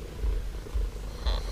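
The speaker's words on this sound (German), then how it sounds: "Die hängt hier voll ab und schnurrt." A cat purrs up close in soft rhythmic low pulses, each breath cycle audible as a rumbling swell, with nobody speaking.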